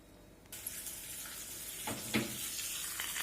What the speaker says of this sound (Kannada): ಸಾಸಿವೆ, ಜೀರಿಗೆ, ಉದ್ದಿನಬೇಳೆ, ಕರಿಬೇವು ಒಗ್ಗರಣೆ ಹಾಕ್ತಾ ಇದ್ದೀನಿ